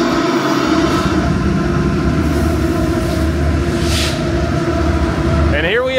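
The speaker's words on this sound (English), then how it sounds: "here we have yet another massive train going by" A massive freight train rolls past in a desert town, a steady loud rumble and clatter of wagons filling the whole stretch with a brief squeal near the end.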